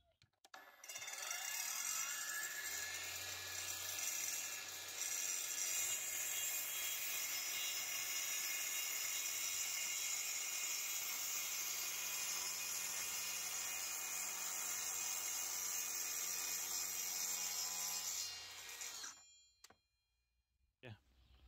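A Parkside Performance PPTSA 20-Li cordless plunge saw runs a shallow pre-cut with its depth set to 3 mm, a loud high-pitched whine that spins up, holds steady for about eighteen seconds, then winds down and stops.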